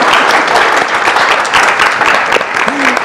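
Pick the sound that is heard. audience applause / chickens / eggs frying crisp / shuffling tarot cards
audience applause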